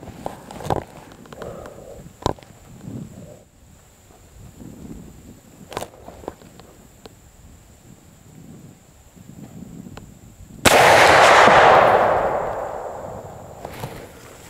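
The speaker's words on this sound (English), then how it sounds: "Let's put another shot downfield." A single loud muzzleloader rifle shot fired downrange at about 45 to 50 yards, a heavy boom with a long rumbling decay, preceded by quiet footsteps and faint clicks of handling.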